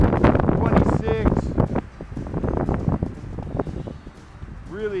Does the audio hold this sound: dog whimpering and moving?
no